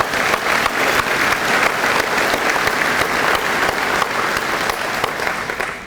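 An audience at a mayors' breakfast gives a sustained round of applause for the armed forces, many hands clapping evenly and loudly for several seconds before easing slightly at the end.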